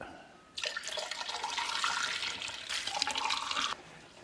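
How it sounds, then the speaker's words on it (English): A Ninja Coffee Bar coffee maker flushes water from its pot in a steady rushing pour for a few seconds, close by, then cuts off abruptly. "we are ready to flush, which pretty much means we empty the water that's in the pot"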